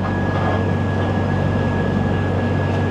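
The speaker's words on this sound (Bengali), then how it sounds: "পাক্কা 7:33-এ ট্রেনটা ছেড়ে দিল লখনৌ জাংশন" Rolling noise from inside the Himgiri Express as it pulls out of Lucknow Junction: a steady, dense rumble of wheels and carriage, constant and fairly loud, with a faint high whine and no voices.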